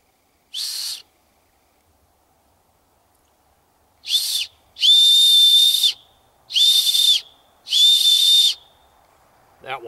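A whistle made from a small acorn cap gives five loud, shrill blasts, one brief toot followed after a pause by four longer piercing ones in quick succession, with no other sound around them.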